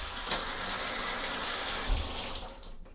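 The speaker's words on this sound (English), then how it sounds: "And let's check the water pressure of the shower." Water sprays hard from a shower in a cruise ship cabin on the Marella Voyager, a loud steady hiss of falling water that runs for a few seconds before it tapers off.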